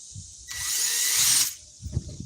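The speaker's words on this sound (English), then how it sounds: "with the wrong drill bit, as usual" A power drill runs in one steady burst of about a second, loud and close, with quiet low knocks before and after, during a live crafting session making a zombie bat toy.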